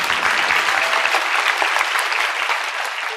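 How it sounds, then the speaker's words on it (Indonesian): A church congregation applauds for Jesus, a dense, steady clatter of many hands clapping together close by, holding throughout and easing slightly toward the end. "Kasih tepuk tangan untuk Tuhan Yesus"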